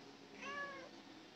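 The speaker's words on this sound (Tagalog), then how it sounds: "nagmimiyaw" A Siamese cat indoors gives a single drawn-out meow, faint and close, rising and falling over about half a second against quiet room noise.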